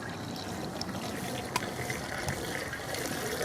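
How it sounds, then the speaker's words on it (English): Water runs steadily into a narrowboat's water tank until it overflows, a constant gushing fill with faint trickling, moderately loud and unbroken throughout. "you can now hear the water going in, and you basically fill it up until it overflows"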